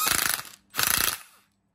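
A Bosch 36v impact wrench hammering in reverse, two loud close bursts of rapid rattling impacts separated by a short pause, then silence.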